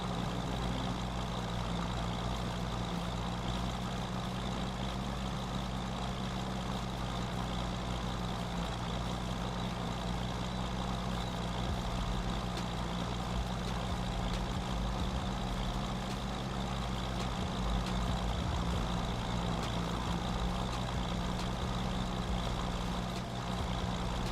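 An MB Trac 1000 tractor engine runs in Farming Simulator 25, a steady low droning rumble with an even idling tone that holds unchanged and close throughout, with no one talking.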